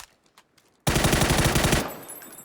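Rapid automatic gunfire in the video game PUBG erupts after a near-silent moment, a loud, close, steady burst of shots that then cuts to a fainter tail.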